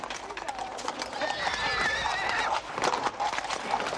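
Horses whinny and hooves clatter amid a noisy crowd as a team of horses strains to pull apart a sealed metal ball, a steady busy din throughout with a long neigh in the middle.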